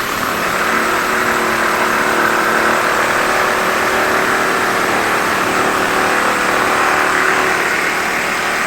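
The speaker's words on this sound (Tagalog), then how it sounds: "Pinasip-sip namin sa motor." A motor pump runs steadily while siphoning floodwater out of a flooded elevator shaft, a loud, continuous engine drone with a broad hiss that holds unchanged throughout.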